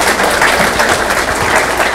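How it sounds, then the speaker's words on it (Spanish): Applause from an audience at a big data and internet of things lecture, a short loud wash of clapping with no talk over it. "Un aplauso para la ingeniera,"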